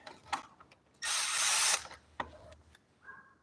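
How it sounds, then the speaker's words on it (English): A hand ratchet wrench bolts bicycle parts together, a brief burst of quick clicking and a short, loud whirr standing out among scattered faint clicks and taps in a quiet workshop. "I'll bolt one over to the other side."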